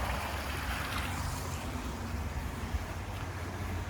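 Steady rushing water in a garden by a terrace, a continuous broadband wash with no breaks and no voices.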